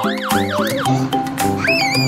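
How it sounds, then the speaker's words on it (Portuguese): A toy police car siren wails in a rising and falling electronic tone, bright and loud, with a brief pause then a few higher beeping tones over a steady musical background. "Uma sirene, é isso aí."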